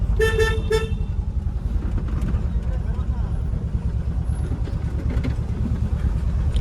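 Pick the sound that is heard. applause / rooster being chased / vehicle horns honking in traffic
vehicle horns honking in traffic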